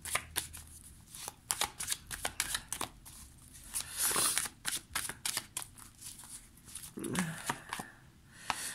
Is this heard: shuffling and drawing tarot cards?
yes